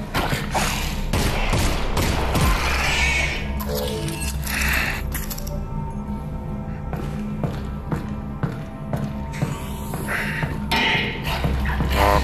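Rapid bursts of gunfire in the video game Half-Life: Alyx crack repeatedly with thuds and impacts, loud and close, over a constant low background hum.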